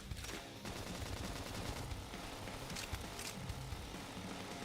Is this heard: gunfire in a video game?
yes